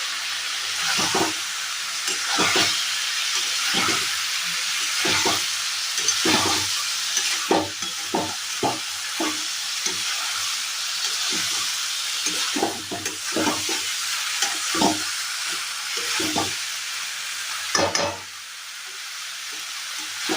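Jackfruit and prawns fry in a spiced masala, a loud continuous sizzle broken by repeated scraping strokes of a spoon stirring the pan.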